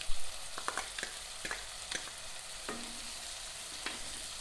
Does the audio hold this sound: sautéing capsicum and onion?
yes